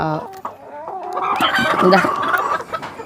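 Laying hens on a poultry farm in Jaffna cluck and squawk in a busy overlapping chorus, close and fairly loud, with a rooster-like call rising through the middle and no talk.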